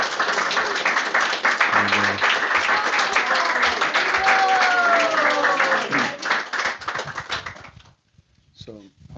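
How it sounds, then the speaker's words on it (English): An audience at a Krishna Katha gathering in San Jose claps warmly to welcome a visiting swami, a dense steady burst of applause for about seven seconds that thins out and fades, with a few voices mixed in. "So let's give a warm welcome by clapping Maharaj here."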